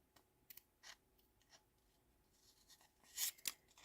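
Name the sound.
scissors cutting card for a paper napkin ring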